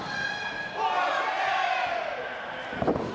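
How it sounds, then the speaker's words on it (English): Women's extreme wrestling crowd cheering and yelling in an arena, a loud sustained roar that swells and then fades, with sharp thuds near the end. "this crowd is solidly behind the Gem City Queen"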